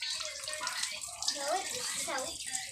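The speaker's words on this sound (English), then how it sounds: "Let's wash our hands." Tap water runs steadily into a sink as hands are washed at home, a close continuous splashing hiss with a voice briefly speaking over it.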